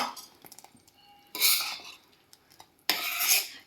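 A spoon clinks and scrapes inside a pot of sweet corn soup, with two bursts of louder swishing stirring between quieter taps.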